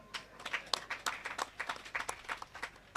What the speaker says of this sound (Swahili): Jamani, pigeni hongera watu wa Temeke, jipeni makofi